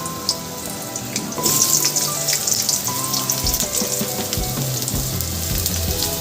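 Potatoes dropped gradually into hot mustard oil for a Bengali rice-and-pointed-gourd dish, bursting into a steady, close sizzle with crackling spatter that grows louder after the first pieces go in and continues alone.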